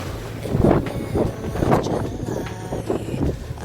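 Strong wind blows in gusty surges around an open hilltop at Siddhoba Temple, buffeting the microphone with loud, rumbling bursts that rise and fall throughout.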